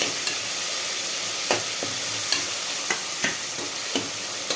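Onions, green chilies and tomatoes sauté in a pan with a loud, constant sizzle broken by regular scraping strokes of a spatula.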